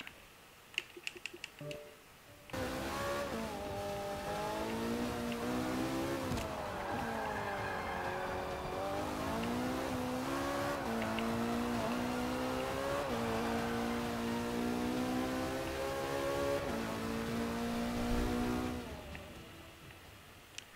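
Race car engine in Forza Motorsport 5 on Xbox One, a steady droning whine that climbs and dips through gear changes for about sixteen seconds, after a few faint clicks and before tapering off.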